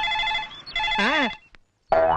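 A loud electronic phone ringtone plays a short melodic phrase, pauses briefly, then starts again.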